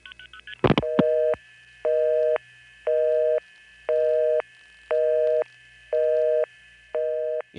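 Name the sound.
telephone busy tone over long-distance wireline trunk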